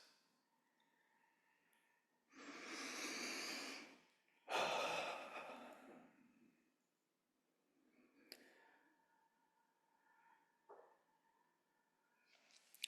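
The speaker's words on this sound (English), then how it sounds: "And just take a few deep breaths." Two long, slow, deep breaths, an inhale then a fuller exhale, soft and close in a quiet room during mindfulness practice.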